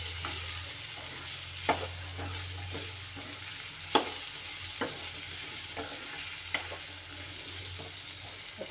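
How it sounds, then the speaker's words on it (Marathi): Brinjal fries in oil in a pan with a steady close sizzle, while a utensil stirs it and scrapes the pan now and then with light knocks. No one speaks. "आपण वांगे छान तेलावर भाजून घेऊया"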